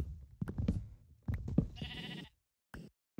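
Minecraft sheep bleat in short nasal cries, several close together, alongside other game sound effects; no talk over them.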